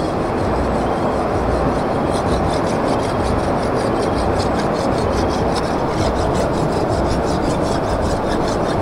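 A bolo knife being sharpened by a river, with steady, continuous rasping strokes on a whetstone that fill the whole stretch at a constant, fairly loud level.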